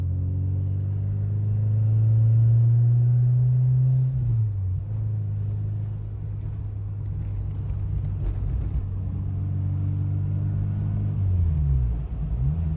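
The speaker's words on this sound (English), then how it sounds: "We're at 70 kilometers an hour, which is probably a little over 40 miles an hour, 45 miles an hour, and the car feels awesome." Steady low engine drone and road rumble from a 1988 Peugeot 205 GTi 1.9L cruising at moderate speed, with gentle pitch shifts, heard from inside the car with no speech.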